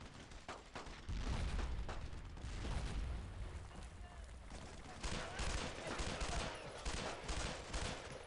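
A Thompson submachine gun fires in a World War II video game amid heavy surrounding battle noise, with dense bursts of automatic gunfire and booms that build after a quieter opening second.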